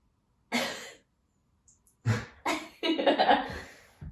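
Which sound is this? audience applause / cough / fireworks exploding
cough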